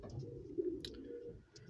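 A racing pigeon coos softly in a loft, a single low, faint murmuring call with a brief chirp, heard quietly over a dim background.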